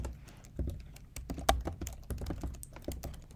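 Rapid typing on a computer keyboard, a steady patter of close, crisp keystrokes with one sharper tap partway through, heard without any talking.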